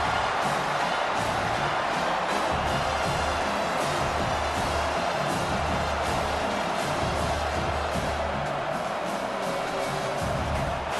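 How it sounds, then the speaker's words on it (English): A stadium crowd in the College Football 25 video game, at an LSU vs South Carolina matchup, roars steadily behind the defense on third down, a dense sustained wall of cheering with faint commentary underneath. "Decibels rising as the crowd gets behind this defense on 3rd down"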